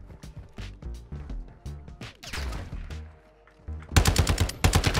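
Gunfire in Call of Duty DMZ: scattered single shots and short bursts, then a loud, close run of rapid automatic fire near the end.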